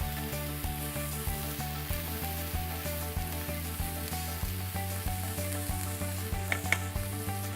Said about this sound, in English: that's going to saute with the onions